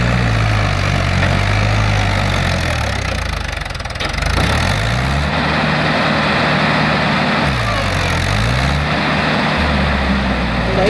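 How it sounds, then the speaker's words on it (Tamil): A tractor with a full load, stuck in mud, runs loud and steady with a low, throbbing engine note that dips and rises as it strains. No talking. "நம்ம சேனல் இன்றைக்கி டிராக்டர் ஒன்று ஃபுல் லோடோட மாட்டிக்கிச்சு"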